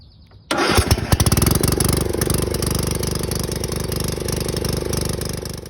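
A Craftsman R110 riding lawnmower with a dead battery, jump-started, cranks briefly then fires up into a loud, close, steady chugging idle that keeps running.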